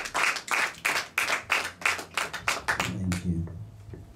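A church congregation claps in a slow, even rhythm, about a dozen loud beats, then the clapping fades as voices begin speaking.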